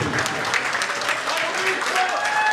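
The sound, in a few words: applause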